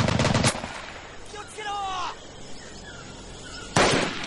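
Automatic gunfire bursts in the Pacific Assault game of Medal of Honor, a loud rattling burst at the start and another at the end with quieter shots between, mixed with game noise.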